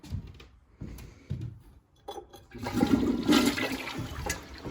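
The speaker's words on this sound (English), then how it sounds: "A toilet flushes" A toilet flushing in an old house under renovation, beginning with a few nearby clunks and handling noises, then a loud rushing swirl of water that carries on to the end, with no talking.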